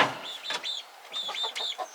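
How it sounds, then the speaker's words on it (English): Several hens cluck in a busy roost on a homestead, a run of close, fairly loud clucks and short calls in two bursts with a brief pause between. "Silly chicken."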